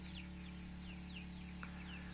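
Chickens, a rooster and chicks gathered together in the late afternoon, clucking and peeping repeatedly with faint high chirps over a steady low background hum.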